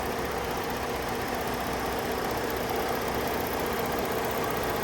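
A 2010 Ford Edge Limited's 3.5-liter V6 idles under the open hood, giving a steady, smooth, even hum that holds at one level throughout with no other sounds.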